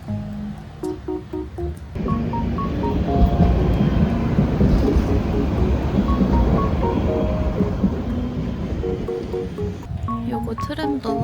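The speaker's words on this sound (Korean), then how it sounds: "요거 트램도 타볼까봐요." A tram in Kaohsiung, Taiwan rolling along with a steady loud rumble and rattle that swells after a quieter start and fades near the end, with people talking over it.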